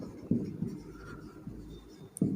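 Notes being written by hand, heard as a few close, soft scratching strokes of a pen separated by short pauses in a quiet room.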